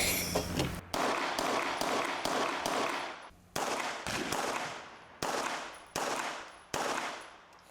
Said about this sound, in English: That's my first time to shoot a double stack 9 in the 1911